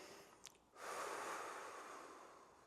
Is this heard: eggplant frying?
no